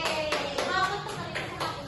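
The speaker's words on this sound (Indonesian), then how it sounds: "Tepuk tangan buat Erik" A small group of classroom students clapping for a classmate in a sixth-grade maths lesson, a loose patter of hand claps with light pulses, moderately quiet and close, with some background chatter.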